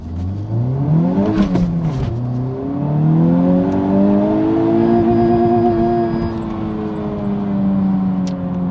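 A front-wheel-drive hot hatch launches hard for a 0-60 mph run on warmed tyres, engine revving up through a gear change around two seconds, then pulling steadily at high revs, loud and close with no talk.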